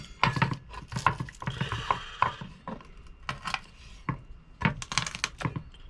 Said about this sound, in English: I'm going to need the bigger knife to chop the garlic and all up with anyway.